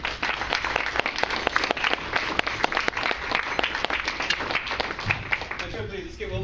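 An audience claps for the participants of a public debate, a steady roomful of applause with some louder individual claps, continuing throughout and tapering near the end as a voice begins.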